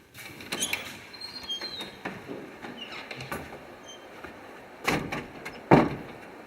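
The main door of a mountain hut creaks open with a drawn-out thin squeal, then knocks and thuds of the latch and frame, ending in two sharper bangs, close and fairly loud.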